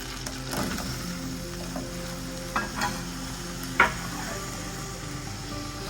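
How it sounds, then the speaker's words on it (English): Mushrooms fry with a steady low sizzle in a hot pan for a quick breakfast, with a few soft clinks and stirring bumps, close and fairly quiet. "So we'll go in first with the mushrooms."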